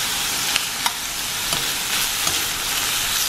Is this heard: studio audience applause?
no